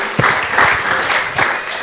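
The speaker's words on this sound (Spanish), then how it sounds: "Fuerte el aplauso al Señor." A church congregation applauds to welcome first-time visitors, a brief, steady wash of many hands clapping close by.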